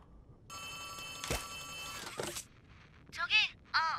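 A telephone rings in the horror video game Poppy Playtime Chapter 3, a steady bell-like trill lasting a couple of seconds, followed by a faint click and short bursts of a distorted voice.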